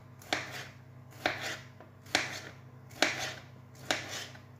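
A knife cutting tomato rounds on a board for a homemade pizza, five crisp evenly spaced chops, close and clear.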